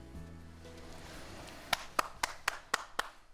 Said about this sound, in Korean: 일단은 박수를 크게 치면 나오거든요